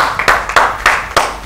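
A studio audience claps on a Pakistani TV comedy show to welcome guest Ismail Tara, with a few sharp, rhythmic bursts of clapping spaced evenly and close.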